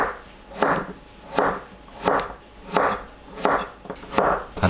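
A knife cuts potatoes into 0.5 cm slices on a board, with about seven evenly spaced, crisp chopping strokes close by and no talking.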